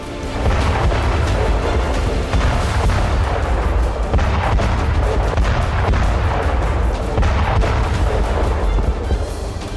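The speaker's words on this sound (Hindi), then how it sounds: "यूक्रेन ने वॉरमेड ड्रोन से ही काला सागर में रूसी नेवल बेस पर बारूदी प्रहार कर दिया।" Explosions from a drone strike on a Russian naval base in the Black Sea, heard as a dense, continuous barrage of loud booms and blasts with rumbling low-end, sustained throughout without talk.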